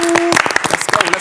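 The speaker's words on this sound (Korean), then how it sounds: "박수와 함께 감상하시죠" Audience applause at an idol variety show, greeting a dance performance; brief, dense clapping with voices mixed in over it.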